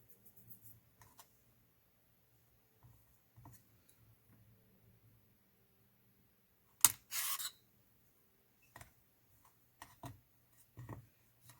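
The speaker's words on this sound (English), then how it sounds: "And just cut some of this white off." A blade slices through white polymer clay on a work surface, giving one short sharp cut followed by a brief scraping sound, with scattered light taps and clicks and no talking.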